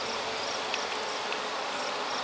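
Honeybees in a brand-new hive with a piping queen: a dense, steady, close buzzing hum that holds without a break, with faint brief tones rising above it and no voices.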